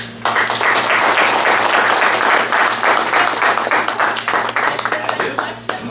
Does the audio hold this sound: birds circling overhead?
no